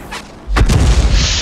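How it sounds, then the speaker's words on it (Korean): An artillery shell in World of Tanks strikes the ground and explodes with a heavy, close boom and a rumbling tail, heard alone without talk. "이게 지금 폭탄이 펑 하고 터졌잖아요"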